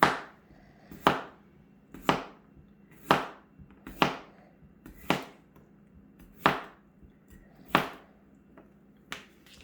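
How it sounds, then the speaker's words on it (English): Potatoes are chopped with a knife on a cutting board during home breakfast cooking, about a dozen crisp, evenly spaced knocks, close and clear with no talk. "we're going to start chopping our potatoes"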